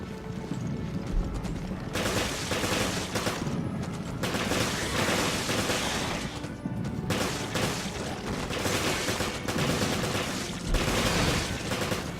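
Gunfire in Resident Evil: Revelations, with loud bursts of rapid shots in several clusters over a dozen seconds and mechanical clicks and clatter between them.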